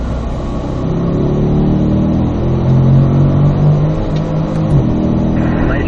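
A Corvette accelerating in fourth gear on a race track, with a loud, close engine note that climbs steadily in pitch as revs build, then dips near the end.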